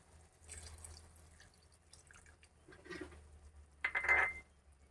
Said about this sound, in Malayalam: അതൊന്ന് പിഴിഞ്ഞെടുത്തിട്ടുണ്ട്, അതൊന്ന് ഒഴിച്ചു കൊടുക്കാം നമുക്ക്.